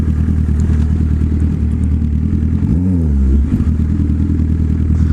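A motorcycle being ridden, its engine a loud, close, steady rumble with a brief rev rising and falling midway, no talking.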